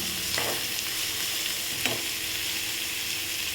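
Onions sauté in oil in a pan while making spicy green gram kuzhi paniyaram, giving a constant close sizzle with a couple of spatula stirs. No one talks.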